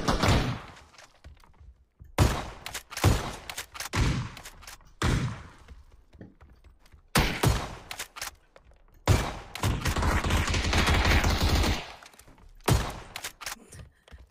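Loud shotgun blasts in a video game come in bursts with brief quiet gaps, including a sustained rattling stretch of rapid fire.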